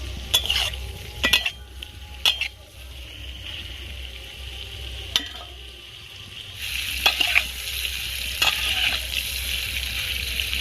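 Eggs frying in oil for egg korma, a low, continuous sizzle broken by sharp clinks and scrapes of a utensil against the pan, growing more intense toward the end.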